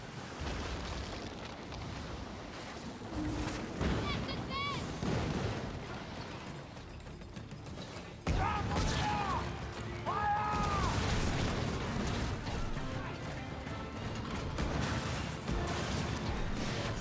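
Heavy cannon fire aimed at a player's sailing ship in Skull and Bones, rumbling booms and blasts rolling over a steady bed of sea battle noise, with a louder surge of impacts midway.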